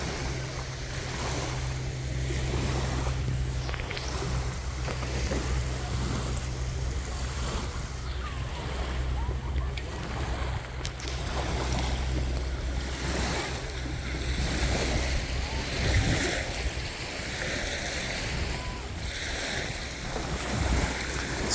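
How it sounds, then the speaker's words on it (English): Strong wind blowing across a sandy lake beach on a grey day, a steady rushing roar buffeting the microphone with low rumble, waves faintly beneath, continuous for the whole stretch. "Wind's pretty strong. Facing kind of our face."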